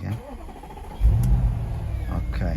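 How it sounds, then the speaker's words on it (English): A 2014 C7 Audi S7 engine cranks and catches about a second in, its low rumble swelling suddenly and then holding as a steady, close idle. "I'm just going to start the engine up for that"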